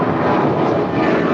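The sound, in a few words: Sun Country airplane rolling on runway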